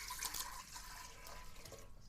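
Water poured into a pot to start the boiling base for lapsi, a steady splashing rush running close and continuous for about two seconds, with no talking.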